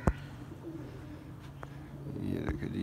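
Soft pigeon cooing murmurs in the background, low and continuous, with a couple of sharp knocks and clatters nearby.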